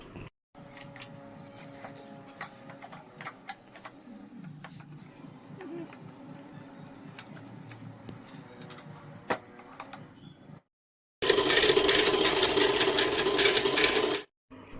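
A home sewing machine stitches a pajama alteration in pink thread, running steadily with a fast rhythmic whir, then a brief pause and a louder, harsher high-speed run near the end; no one talks.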